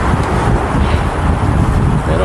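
Steady, loud wind rush buffets the microphone while a road bike speeds downhill after a steep climb, a continuous roar with no pauses and no talk.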